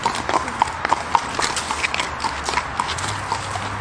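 Horses walking on a countryside road, hooves clip-clopping in a steady uneven rhythm, fairly close and loud, with faint background noise and no talk over them.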